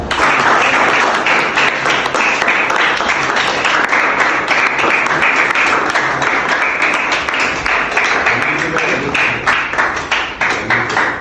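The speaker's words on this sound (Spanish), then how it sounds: "Vale. Aplauso a..." Sustained applause from an audience at a live interview event, loud and close, many hands clapping steadily for over ten seconds before starting to taper off.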